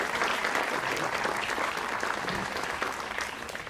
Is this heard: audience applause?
yes